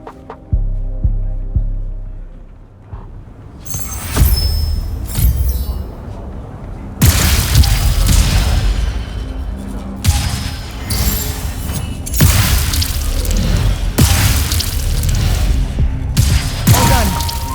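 Heavy booms and bursts of shooting in Immortals of Aveum come in several loud waves after a quieter hum, with thuds, shattering hits and brief voices between them.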